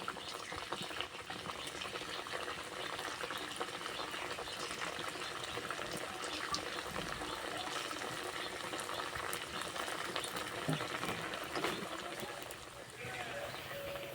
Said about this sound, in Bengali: একসঙ্গে অনেকগুলো পিঠে ভাজা হবে।